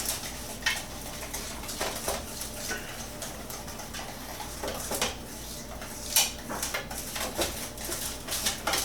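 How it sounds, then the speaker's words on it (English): Peanut butter cookie ingredients being whisked in a bowl, with quick irregular clinks and taps of the whisk against the sides, fairly quiet and close. "And let's whisk that in."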